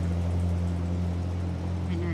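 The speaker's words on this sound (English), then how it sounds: "He's driving my tractor." A tractor engine drones steadily nearby, with a deep, even rumble throughout.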